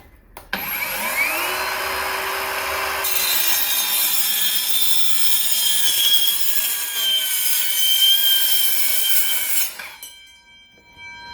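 Bauer 20V metal circular saw cutting thin-wall tubing: the motor spins up, then the blade grinds loudly through the metal at close range for several seconds, with shrill screeching overtones, before it stops and winds down.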